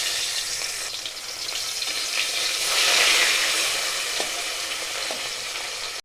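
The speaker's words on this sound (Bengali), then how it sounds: "এইবার আমি মাছগুলো ভেজে নেব।" Parshe fish frying in oil in a pan, a loud steady close sizzle that swells slightly midway, with no voices.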